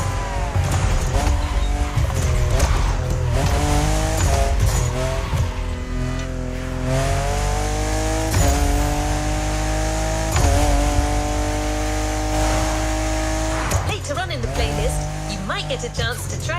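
A Toyota driven hard in the racing game The Crew Motorfest, a loud, continuous engine note rising and falling through gear changes with tire squeal in corners, a voice talking over it throughout.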